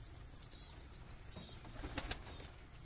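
An Andhra pigeon flaps its wings inside a breeding cage, giving quiet, brief fluttering bursts with a sharper flap near the end.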